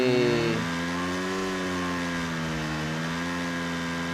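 A Yamaha motorcycle engine in the Free Fire Max video game drones at a steady mid-pitched hum after a brief louder rev at the start, running smoothly and continuously with no talk.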